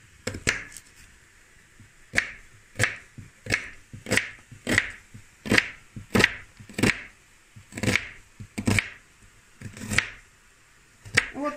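A knife chops onion on a cutting board with about fifteen sharp, evenly paced strikes, close and clear, with no talking.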